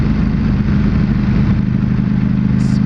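A 2021 Ducati Panigale V4S with its V4 engine runs close by, giving a loud, steady, low rumble with no let-up.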